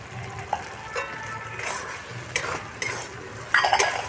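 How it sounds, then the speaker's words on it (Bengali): Chopped tomato drops into a pan of frying onion, garlic and ginger paste, a soft steady sizzle broken by scraping stirs and light clinks of a spoon against the pan. "এইভাবে কেটে রাখা টমেটোটা দিয়ে দিতে হবে।"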